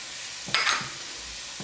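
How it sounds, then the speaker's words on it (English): Purple garlic sizzling in a pan for shrimp fra diavolo while being stirred, with two brief bursts of stirring and frying hiss over a low steady sizzle. "You keep stirring it around so it doesn't burn."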